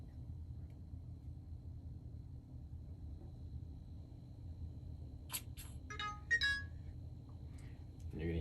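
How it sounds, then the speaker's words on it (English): A Shepherd smart lock, freshly fitted with batteries, gives a short run of bright electronic chime tones, fairly faint against a steady low room rumble and background hum. "And you're going to hear the chime and see the LEDs, and that tells you that your lock is awake and ready to pair to your phone."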